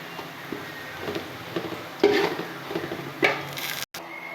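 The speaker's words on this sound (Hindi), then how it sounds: "अब मैं इसकी अच्छी तरह से मिक्सिंग करूँगी।" A spoon scrapes and rubs against a pot while chicken pulao is stirred and mixed, giving soft irregular strokes with a few sharper knocks, close and fairly quiet.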